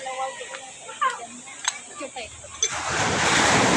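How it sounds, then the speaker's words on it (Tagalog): Ocean surf at a swimming beach rises into a loud, steady wash of breaking waves in the last second, after quiet moments where people talk over faint background surf and wind. "maalon talaga rin sa niliguan namin."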